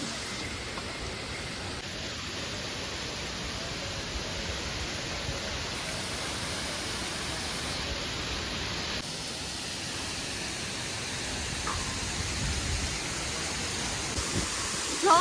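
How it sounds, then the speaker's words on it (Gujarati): A small mountain stream or waterfall on a trek flows with a steady, even rushing hiss, moderately loud and unbroken throughout. "મિત્રો તમને એક મસ્ત એવું ઝરણું બતાવું"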